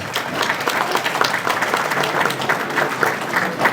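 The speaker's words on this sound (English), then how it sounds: "Give them a round of applause." Banquet audience at a speedway championship dinner applauding the season's champions: steady, dense clapping from a full room that holds evenly throughout, with a faint murmur of voices mixed in.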